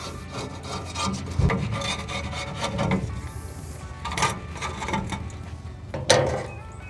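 A brush scrubs the firebox lift mechanism of a Hasty Bake Legacy charcoal grill, giving close, steady rasping strokes with a few sharper metallic knocks along the way.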